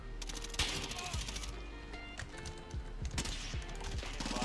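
A Galil rifle fitted with a short barrel fires in Modern Warfare, with rapid bursts of gunfire and sharp repeated cracks across the whole stretch, loud and close.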